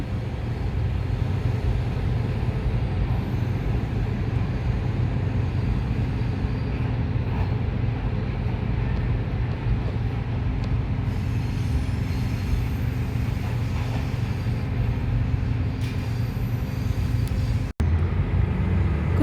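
A locomotive hauls the luxury Royal Blossom train out of platform three at a railway station, a constant heavy low rumble that holds steady with no voices.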